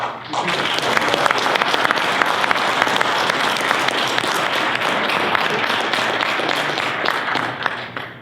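An audience at a Sigma Pi fraternity province workshop bursts into sustained applause to welcome new colony members, a dense, loud wash of many hands clapping that carries on evenly before tapering at the end.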